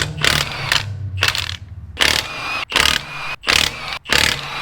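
Impact gun working the lug nuts on a 2018 Acura ILX wheel during a tire rotation, several loud close bursts of mechanical rattling with short pauses between them, no talking.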